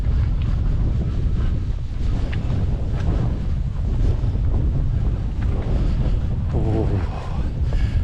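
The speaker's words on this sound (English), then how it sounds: "if you could feel that wind, it would chill you to the bone" Strong wind on a beach at Levenwick in Shetland buffets the microphone with loud, continuous roaring gusts. Faint surf sits beneath it.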